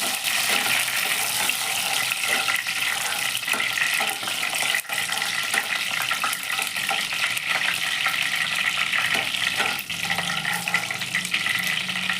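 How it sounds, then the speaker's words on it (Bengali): Dried red chillies and bay leaves fry in hot oil for an egg dish, making a continuous close sputtering sizzle with light crackles throughout. "তখন আমাকে দিতে হবে এটার মধ্যে কয়েকটা শুকনো লঙ্কা ফোড়ন দিলাম।"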